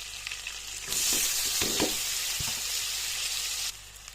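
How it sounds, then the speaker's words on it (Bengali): Steady hiss of chopped onions frying in hot oil, a loud sizzle that jumps in suddenly and holds, then drops away near the end. "এখন এই তেলের ভিতরে দিয়ে দেবো পেঁয়াজ কুচি।"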